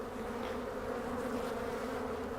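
Honeybees at an opened hive hum in a dense, continuous swarm drone, close and steady with no voices.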